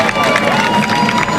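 A Mardi Gras carnival parade crowd in Basse-Terre cheering and clapping in a brief, loud, continuous burst of noise.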